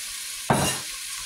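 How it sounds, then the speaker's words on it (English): Food hits a hot oiled pan for a sear, bursting into a loud sizzle that then settles into steady frying hiss, alone with no talk. "And we'll get a sear on it."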